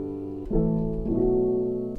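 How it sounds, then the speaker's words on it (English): A soft piano preset in a beat-making program plays a gentle, sustained chord that shifts twice, with mellow, close tones and no voices. "I'm going to use this preset here called Soft Piano"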